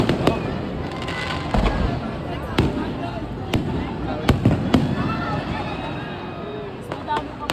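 Chinese New Year fireworks burst over the Binondo bridge in Manila, a series of sharp, scattered bangs, some near and loud, others distant, over steady crowd murmur while people talk nearby.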